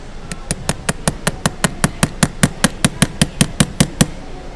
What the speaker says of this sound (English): So you hammer this